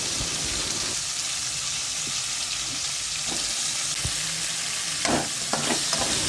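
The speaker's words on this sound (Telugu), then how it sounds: "ఉల్లిగడ్డలు వేసుకొని అలా కొంచెం ఫ్రై చేసుకోవాలి" Onions frying in oil with coriander seeds, cinnamon, bay leaf and cardamom for masala paneer, a continuous close sizzle with a few sharp spatula scrapes and knocks near the end.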